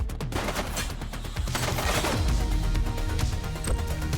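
Dense gunfire from a shootout in the police game The Precinct, loud continuous bursts and rattling shots layered over heavy low rumble, with no voices.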